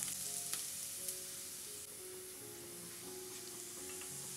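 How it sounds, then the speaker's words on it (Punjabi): Ginger and onion fry in a pan toward light brown, giving a faint, even sizzle throughout with a few soft stirring scrapes. "ਇਹਨੂੰ ਵੀ ਪਿਆਜ਼ ਦੇ ਨਾਲ ਲਾਈਟ ਬਰਾਊਨ ਜਿਹਾ ਹੋਣ ਤੱਕ ਭੁੰਨ ਲਵਾਂਗੇ"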